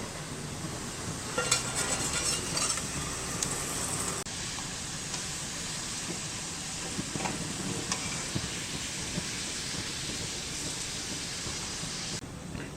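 Coconut patties frying in hot oil give a steady, even sizzle and hiss that runs unbroken from start to finish, with no voices.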